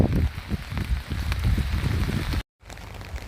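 Heavy, non-stop rain falling on an outdoor work site, a loud continuous patter with dense irregular drops, briefly cut to silence near the end before resuming.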